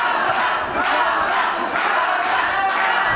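Loud wrestling crowd at a GWF show cheering and chanting, a dense continuous roar of voices that swells in regular rhythmic bursts, with no clear talk over it.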